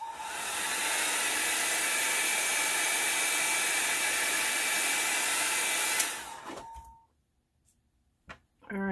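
A hair dryer drying a watercolor mushroom painting on a card, a loud steady whir close to the microphone that runs for about six seconds, then clicks off, leaving near silence before a brief handling noise.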